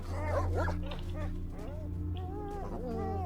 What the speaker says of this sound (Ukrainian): Блять, ці собаки реально бісять.